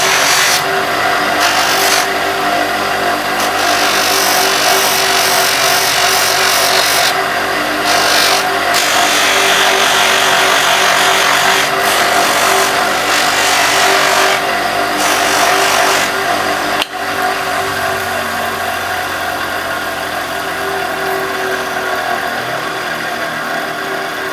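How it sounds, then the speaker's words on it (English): A large polishing buff spins steadily with a loud, continuous whir as a resin and wood ring is pressed against it with polishing compound, rising and falling briefly as contact shifts. "we've got our big polishing buff on here, so we're going to turn it on"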